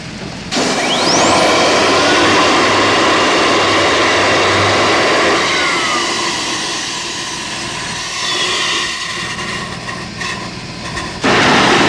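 An HTP rocket motor test run at a fire station makes a loud, steady roar that starts abruptly, holds for several seconds, eases off somewhat, then surges again near the end, with no voices.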